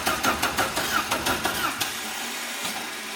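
An engine cranks repeatedly while trying to start, with a rapid rhythmic starter chug for under two seconds that then fades into a lower steady rumble.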